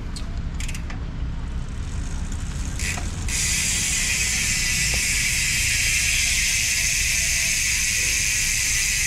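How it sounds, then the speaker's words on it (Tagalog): A Speed 1 Soldier MTB rear hub spins freely in a Mountainpeak Ninja 29er XC frame. A few light taps lead into a loud, steady, close buzzing tick that carries on without talk. "ganyan tunog ng kanyang Speed 1 Soldier MTB hubs kapag naka-frame wheel"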